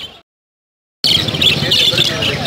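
Caged birds at Lalukhet Sunday bird market in Karachi: a dense, loud wash of chirping and tweeting begins after a second of silence, with market voices mixed in.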